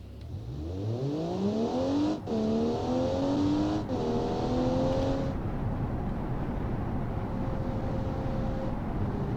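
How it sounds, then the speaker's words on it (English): A video game car under full throttle accelerates to 100 km/h, the engine revving upward in rising sweeps broken by two quick gear shifts, then settling into a steady cruising drone. No one speaks over it. "I'm gonna accelerate under full acceleration to 100 kilometers per hour"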